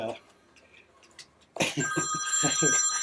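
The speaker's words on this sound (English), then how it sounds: "Don't answer it. I'm not going to answer it. I never answer my phone." A telephone rings in an artist's studio, a sudden electronic bell tone that cuts in partway through and keeps ringing loudly, with a voice talking over it.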